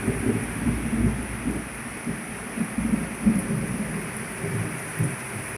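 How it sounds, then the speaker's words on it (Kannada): Heavy rain pours steadily during a power outage with deep thunder rumbling through it, a dense continuous roar with no voices. "ಜೋರು ಮಳೆ ಬರ್ತಾ ಉಂಟಿದೆ ಬಿಡಾದೆ ಮಳೆ ಮತ್ತೆ ಮಿಂಚು ಸಿಟ್ಟು ಬಡಿತಾ ಉಂಟು"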